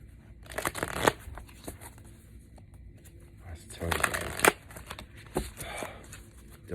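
Tarot cards shuffled in a couple of brisk riffling bursts, with quieter handling rustles between them and a voice speaking at times.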